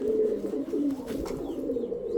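A low, throaty cooing from a pigeon close by, a sustained burbling call with faint background noise and no talking.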